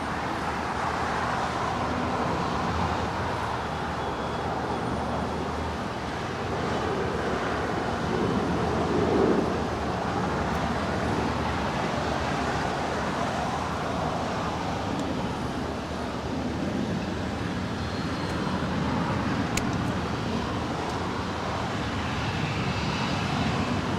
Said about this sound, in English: Oh, we got the Dreamliner going.